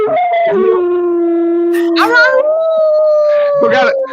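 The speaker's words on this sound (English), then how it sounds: "we gotta let this dog talk." A dog howls loudly and close in long drawn-out wavering tones, rising and falling with short yips between, heard alone.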